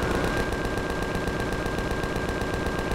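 Sustained rapid gunfire from a weapon in the sci-fi survival game Empyrion: Galactic Survival, a dense, continuous burst of repeated shots that stays loud and steady throughout, with no talking.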